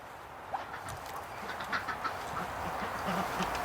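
Muscovy and Rouen ducks quack softly in a barn, scattered short calls over a quiet background hiss.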